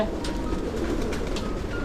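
Pigeons coo softly in a ward of a shelter for sick and injured birds, a low continuous murmur of several birds under a faint hum.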